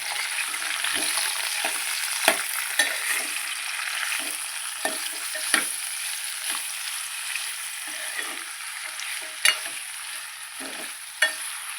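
A spoon stirs tindora masala curry in a sizzling pan, making a constant frying hiss broken by repeated scraping strokes and light clinks at an uneven pace, with no voices.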